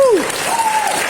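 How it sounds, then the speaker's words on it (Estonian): Loud audience applause in a hall for beginner dancers at a ballroom dance competition, with a sweeping whistle or cheer rising over the steady clapping. "nüüd üks suur aplaus meie ajajatele"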